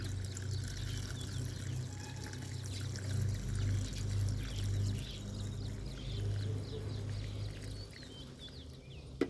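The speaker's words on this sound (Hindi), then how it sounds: "अब ये जो पानी है ये पानी हम डाल देंगे जहाँ पर हमने फांजीसाइड डाले हैं" Water from rinsed syringes is poured onto the soil of a rose plant that was treated for black spot fungus, giving a steady, moderately loud splashing and trickling pour that lasts the whole time with no talking.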